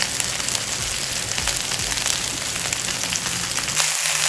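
Peri peri chicken drumsticks sizzle on a grill in a steady, close hiss dotted with small crackles and pops, with no talking.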